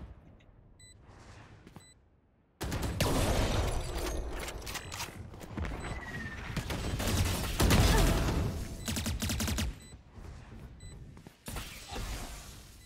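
Dense bursts of gunfire in the video game Valorant, rapid sharp cracks layered into near-continuous clatter with brief pauses, loud and close, sometimes with footsteps and mechanical clicks.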